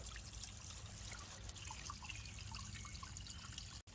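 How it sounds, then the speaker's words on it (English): Water trickles steadily over a small DIY pondless garden waterfall, a close, continuous splashing and dribbling with no voices. "There's the waterfall."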